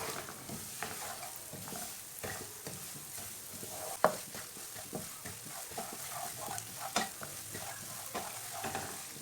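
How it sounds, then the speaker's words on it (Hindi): Semolina roasting in a pan while being stirred makes soft, irregular scraping and rustling strokes over a quiet sizzle, with one sharper knock partway through; the whole thing is faint and close. "सूजी को 4-5 मिनट तक भून लेंगे"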